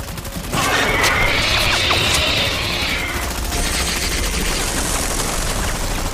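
Gunfire breaks out in a chaotic scene with crowd noise around it, a loud sustained burst of shots that rings on for several seconds.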